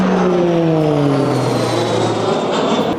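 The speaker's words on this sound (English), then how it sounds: "Every time I come and film something for you lot, there's a bloody plane." An airplane passes overhead above a countryside smallholding, its steady engine drone loud and continuous, pitch sliding slowly downward as it moves away, with no talk.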